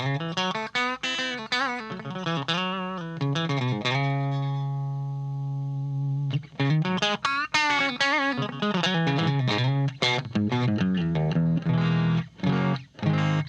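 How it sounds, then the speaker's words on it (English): A Telecaster electric guitar plays distorted chords and riffs with its volume rolled back about halfway, some notes ringing out and sustaining between quicker strummed passages. "still got the distortion on there. We roll the volume back about halfway."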